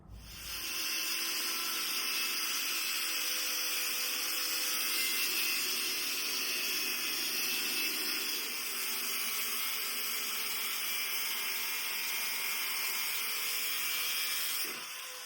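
A power tool cuts a metal piece off during forging work with a steady, bright, whining grind that holds evenly for about fourteen seconds before stopping. Moderately quiet, with no voices.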